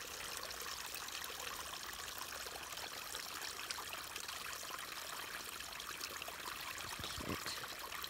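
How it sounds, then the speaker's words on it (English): A tiny waterfall trickles beneath the ground on a backcountry forest trail, a faint, steady hiss of running water with no voices. "This little tiny little bitty waterfall."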